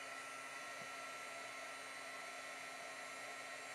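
A handheld heat tool blows steadily and close by, drying a first layer of paint on a painted pumpkin-blooms piece; the even, continuous whirring hiss holds unbroken from start to finish.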